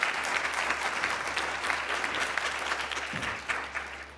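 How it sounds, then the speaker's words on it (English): A conference audience applauds steadily, a fairly quiet, even patter of many hands heard from some distance, with a low constant hum underneath. "So please, a big round of applause before we start for the two of them."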